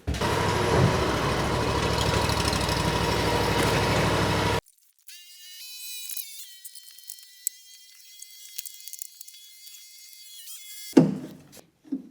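X1 lawn mower engine runs loudly and up close for about four seconds, then cuts out abruptly, followed by a thin high whine and a few faint clicks.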